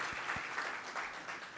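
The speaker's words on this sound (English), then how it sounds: "give her a round of applause." A crowd at Moreno Valley's 2019 State of the City event applauds college president Dr. Robin Steinbach, giving brief, steady clapping from many hands throughout.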